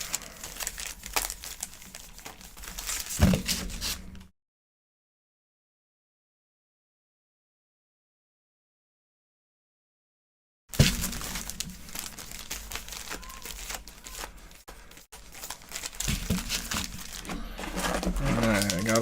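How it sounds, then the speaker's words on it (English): Foil Pokemon card packs crinkle and rustle steadily as they are shuffled by hand, stop for a stretch of silence, then resume with more crackling handling. "Let me grab 3 packs. Let me shuffle them up."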